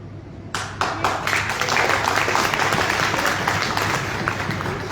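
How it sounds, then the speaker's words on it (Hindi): Audience applause at a business plan presentation, a few sharp claps swelling quickly into steady, dense clapping from a sizable crowd that holds for several seconds. "मुझे लगता है इस पॉइंट पे आप लोग दबा के तालियां बजाएंगे।"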